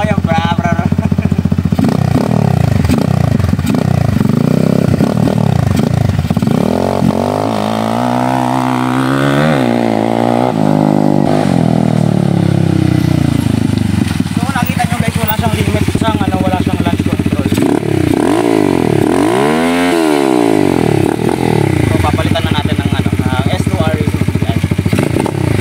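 A motorcycle fitted with an S2R racing CDI and a misfiring carburetor idles and revs loudly up close. The engine note sweeps up and down repeatedly with rough, sputtering irregularity, and someone talks over it.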